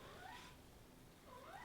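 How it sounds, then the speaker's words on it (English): Two faint cat meows sound in the background, one near the start and another near the end, against quiet room noise. "apologies again if you can hear my cat in the background"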